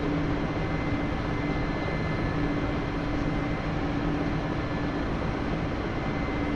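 Steady, loud droning of an Mi-8 helicopter in flight in the DCS simulator, a dense continuous engine and rotor roar with a low humming tone and no voices.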